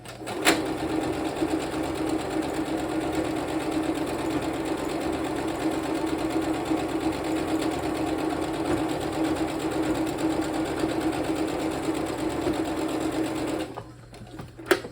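A foot-pedal sewing machine stitches a seam on a Christmas stocking, a loud, close, continuous mechanical whir for about thirteen seconds before it stops with a brief click.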